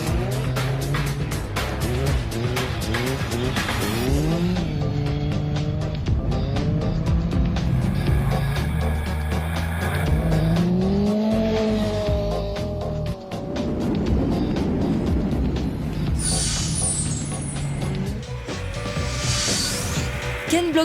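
Ken Block's rally car tears across snow, its engine loud and continuous with rising and falling revs, shifts and brief squeals throughout, while music plays alongside.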